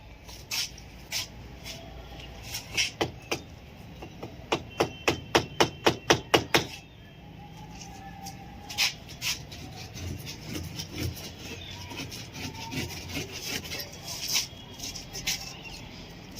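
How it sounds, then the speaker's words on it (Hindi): A child digs and scrapes at a house wall, making a fast run of sharp tapping knocks followed by scattered scrapes and taps, with a voice heard faintly in the background. "ये खोद रहा हूँ। क्यों खोद रहे हो? क्यों दीवार खराब कर रहे हो?"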